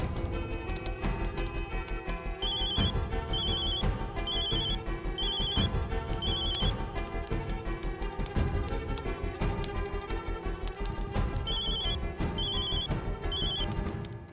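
Repeated electronic telephone bell rings in bursts over a dense, loud music bed in a TV drama, continuing steadily with no talk.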